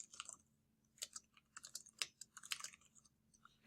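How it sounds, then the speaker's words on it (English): Quick, uneven bursts of light clicking from a computer keyboard as a short chat message is typed, close and quiet with brief pauses between keystroke runs. "I'll go ahead and type something out for Adam."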